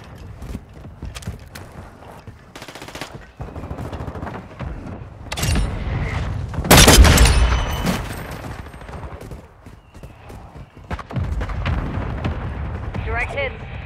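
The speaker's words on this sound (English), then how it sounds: "Mortar strike on the way." A mortar strike explodes in a military shooter game: a loud, sharp blast bursts out midway through steady gunfire, clatter and game radio voices, and rumbling combat noise continues after it.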